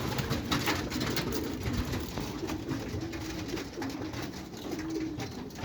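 Pigeons coo softly and repeatedly in a pigeon-keeping area, low throaty calls over a steady hiss of background noise, with no voices.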